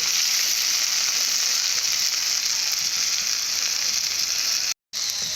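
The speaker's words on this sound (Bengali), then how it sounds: "উচ্ছেগুলো ভালো করে ভেজে নিয়েছি" Bitter gourd frying lightly in oil gives a dense, constant bright hiss that runs unbroken and fairly loud, cut by a brief dropout near the end.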